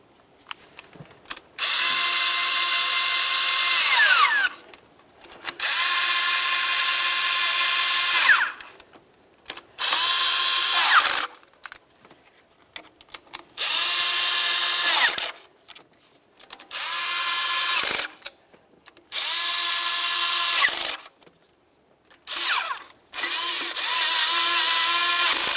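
A power tool runs down valve cover bolts on a 2006-2012 Toyota RAV4 in repeated bursts of two to four seconds each, buzzing with a rising whine that stops abruptly between bolts, close and fairly loud.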